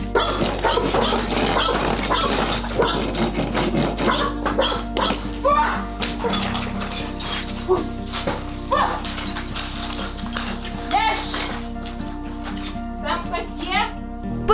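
A shepherd search dog barks to mark a found person during a search-and-rescue certification test, the barks set against steady background noise and frequent talking nearby.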